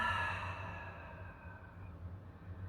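A long, soft exhale out through the mouth during a guided breathing exercise, faint and breathy, starting strongest and tapering off into a quiet room tone.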